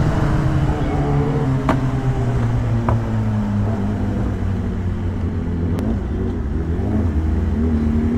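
A superbike engine drones loudly and continuously, its pitch sliding up and down as the rider revs and eases off, with a few sharp clicks along the way.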